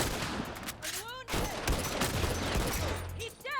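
A semi-automatic rifle fires in The Last of Us Remastered multiplayer, with repeated sharp shots in quick succession mixed with other game sounds while a voice talks over them.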